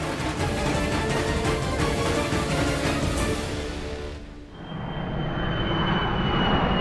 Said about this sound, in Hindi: लंदन से आने वाली फ्लाइट संख्या GX782 लैंड कर गई है।